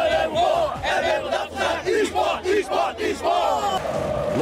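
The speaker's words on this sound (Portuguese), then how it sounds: "Logo eram mais de 24 mil gritando e homenageando o goleiro Magrão durante a entrada das equipes" More than 24,000 fans at a football stadium shouting and chanting as the teams walk out, a dense, continuous roar of massed voices with rising and falling cheers.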